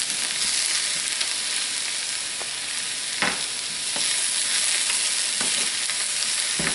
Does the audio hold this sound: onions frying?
yes